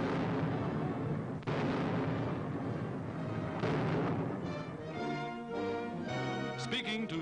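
Chinese army mortars firing in a wartime newsreel, heavy booms repeating through a dense, loud mix with narration and music running over them.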